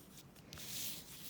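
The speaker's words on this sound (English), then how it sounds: "Or my pencil that I'm writing with right now" Pencil scratching on paper close by, soft and continuous strokes with a brief rubbing texture, no voices.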